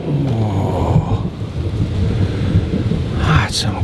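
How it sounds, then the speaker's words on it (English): A late-summer thunderstorm with heavy rain, a steady loud downpour and low rumbling filling the whole stretch, with a brief burst of crackling noise near the end and no talk over it. "That's some good thunderstorm."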